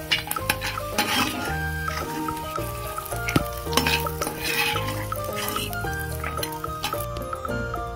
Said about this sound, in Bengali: বাদামগুলো ভাজা হয়ে গেছে, তুলে নেব।